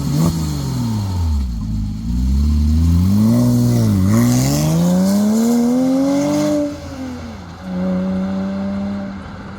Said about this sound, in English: listen to my fantastic AWE exhaust